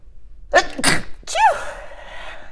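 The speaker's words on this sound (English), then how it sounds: "Anytime I sneeze in my readings, I know there's truth." A single sharp sneeze, close and loud, with a quick intake and burst followed by a brief drawn-out vocal trailing sound and no talk.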